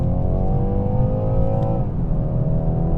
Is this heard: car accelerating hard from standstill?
yes